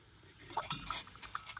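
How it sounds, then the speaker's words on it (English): Soft metallic clinks and a light scrape of a lid lifted off a pot of boiling water on a parabolic solar cooker, quiet and close, with a faint hiss in the background. "Pop the lid here."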